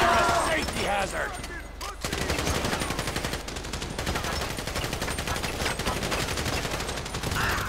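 Sustained GTA 5 gunfire from snipers on an overpass and other shooters during a heist mission, rapid continuous crackling shots under shouting voices and busy game noise throughout.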